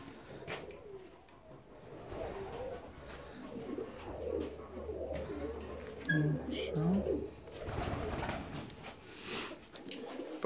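Fancy ornamental pigeons coo in a six-and-a-half-metre aviary, soft repeated cooing calls near and far amid general bird chatter, with a low steady background hum and some faint voices around them.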